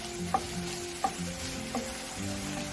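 Vegetables frying in hot oil for Jamaican ackee and saltfish, a steady low sizzle with a few soft stirring knocks at intervals, close and moderate in level, no talking.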